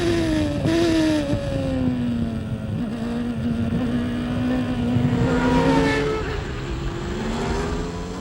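Formula 1 cars from the 1993 season accelerating away at a race start, a loud whining engine drone rising and falling in pitch as cars pass, with wind noise, no talk.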